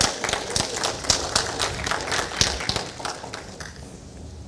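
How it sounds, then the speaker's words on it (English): Congregation clapping at a church service, a loose burst of hand claps with sharp irregular spikes that thin out and fade toward the end, fairly close and moderately loud. "Can I give the Lord a clap offering?"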